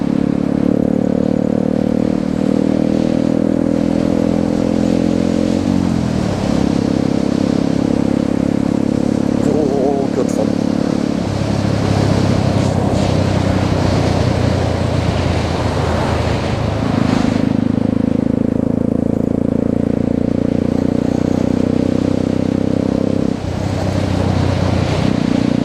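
A Honda Grom motorcycle cruising in third gear on a ride to Blackpool, its steady engine drone holding pitch with shifts in tone, wind rushing throughout and a voice talking over it.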